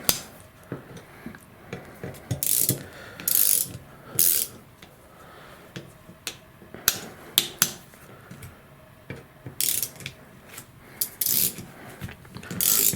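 A torque wrench with a Torx bit ratchets on bicycle disc rotor bolts on carbon road bike wheels, giving bursts of rapid clicking pawl sounds and occasional sharp snaps, close and clear with short pauses between strokes.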